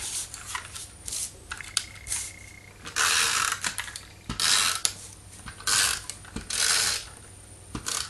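A snail adhesive tape runner is pressed along a card base, giving a series of ratcheting, clicking bursts with short pauses between strokes, close and crisp, with no talking.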